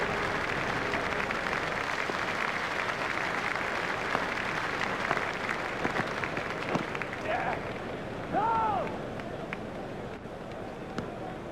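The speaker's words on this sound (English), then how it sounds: "The crowd are standing and applauding." Cricket crowd at a Kenya vs West Indies T20 World Cup match applauding a batter's half-century, steady sustained clapping and cheering from a large stand that carries on throughout, with a few whistles rising late.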